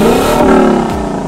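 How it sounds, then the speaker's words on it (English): Lexus LC Convertible V8 engine roaring under acceleration, a loud close rising growl that climbs in pitch, dips briefly and pulls again. "Just listen to this thunderous roar of the V8 engine"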